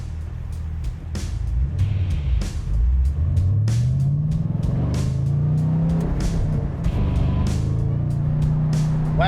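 A high-mileage stock Chevrolet Camaro ZL1 accelerating hard on a test run, loud and close, its engine climbing through rising revs with shifts and a steady roaring drone, with no voices.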